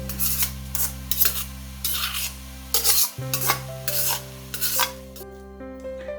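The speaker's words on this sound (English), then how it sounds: "I am going to add cauliflower in it and stir it very well" Cauliflower fried rice with chicken stirred in a pan: steady rhythmic scraping strokes of a utensil against the pan over a low steady hum, loud and close, with no talking.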